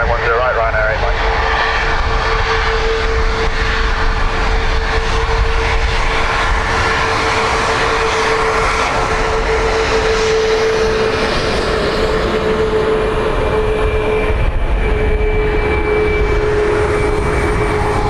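An airliner, a Ryanair jet, lines up on runway 10 right at Dublin Airport, its engines a steady, loud whine and rumble running through the whole stretch, with a sustained tone on top.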